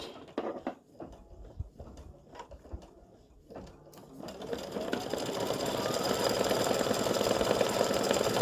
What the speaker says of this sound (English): And now we're going to stitch the scarf and the band around the hat.